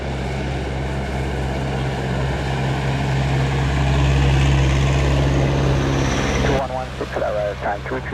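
A propeller airplane approaches the runway at Montego Bay airport in Jamaica during a tropical storm, a loud, steady engine drone that swells and then fades, ending with brief talking.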